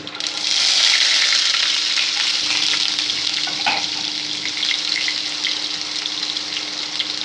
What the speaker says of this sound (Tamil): சின்ன வெங்காயம் ஒரு 2 வெங்காயத்தை கட் பண்ணி போட்டுக்கோங்க.